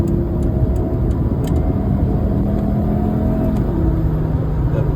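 A converted 1993 Volvo 850 Turbo T5 accelerates on a highway, heard from inside the cabin as a steady, loud engine and road drone that holds throughout.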